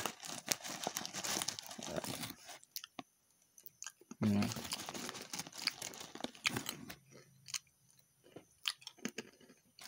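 Crunchy chewing of Garuda Pilus mi goreng flavour snack, a crisp coated peanut snack, heard as close crunching and crinkling bursts with packet rustle, broken by pauses and a short murmur.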